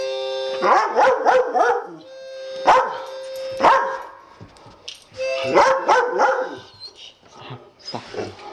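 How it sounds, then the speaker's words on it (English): A pet dog at home barks in clusters of sharp, loud barks, with brief yips and whimpers between the bursts and a few quieter gaps. "Barking is not necessary."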